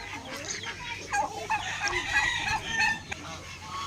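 Turkeys on a farm gobble and cluck together in a busy, continuous chorus, with calls overlapping at moderate distance.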